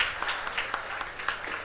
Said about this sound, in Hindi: बस तालियां ही बजाते रहना